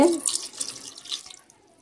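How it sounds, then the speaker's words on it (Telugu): Water is poured over prawns seasoned with turmeric and salt in a cooking pot for prawn biryani: a short, close splash at the start that trails off into faint trickling. "ఇవన్నీ ఉడికేదానికి కొన్ని వాటర్ వేసుకోవాలి."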